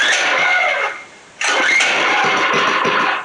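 A Baja Doodlebug 97cc 2.8HP minibike engine cranks and catches with a loud buzzing rev, sags nearly to quiet for a moment, then bursts back and runs steadily and close by.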